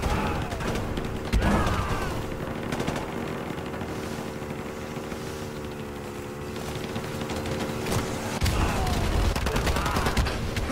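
Bursts of rapid gunfire from Modern Warfare 2 Remastered, rattling over a steady mechanical drone, with heavier volleys near the start and end.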